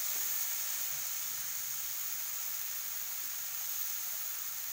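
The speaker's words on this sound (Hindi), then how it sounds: "अब इसमें डाल देते हैं पत्ता गोभी" A pan of mixed vegetables with shredded cabbage added gives a steady, even sizzle and hiss of frying that holds at a constant level throughout, with no talk.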